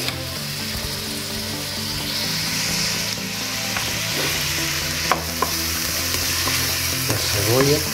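Onion, celery and carrot sautéing in a pan for bolognese sauce, giving a steady close sizzle and frying hiss with occasional stirring scrapes throughout.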